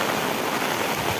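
Heavy rain driven by strong wind in a village, a dense continuous hiss of falling water with no pauses and no voices.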